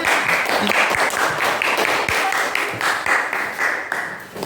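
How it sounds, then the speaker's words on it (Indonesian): Students clap in a classroom, a close, busy round of hand claps that holds steady for a few seconds before thinning slightly at the end. "Ya, tepuk tangan."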